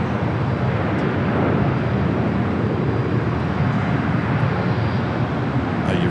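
A Boeing 777 freighter arriving from Seoul at Los Angeles airport produces a continuous, loud jet engine roar that stays steady for the whole stretch, alone with no voices.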